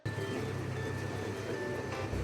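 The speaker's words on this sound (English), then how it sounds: "Isn't it a fun little train?" Steady low rumble of a small amusement park train running along its track, constant and fairly close, with a faint whine above it and no talking.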